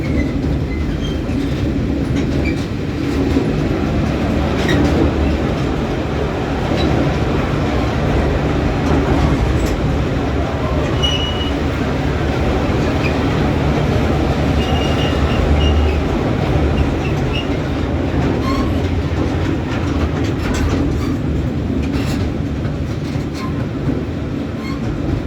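A Union Pacific miniature train rides through a spooky tunnel at San Antonio Zoo and Brackenridge Park, giving a loud, continuous rumble with clickety-clack from the wheels and faint squeals, and no talk.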